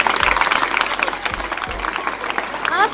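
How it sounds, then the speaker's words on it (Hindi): Applause at a local martyrs' day school event in Lohari Ragho, Hisar, a lively, fairly loud patter of many hands with a few sharper claps and faint background noise. "जोरदार तालियां आशु के लिए"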